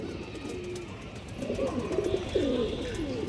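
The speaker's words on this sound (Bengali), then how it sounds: "অনেক সুন্দর একটা মাদি কবুতর" Close, low rolling coos from a female pigeon, a few warbling phrases rising after a quieter start, with light ambient noise and no speech.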